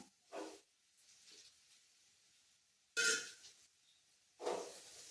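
Chopped tomato dropped into a hot pan for Kerala-style kadala curry, giving three separate bursts of hissing sizzle with quiet gaps between them and no talking.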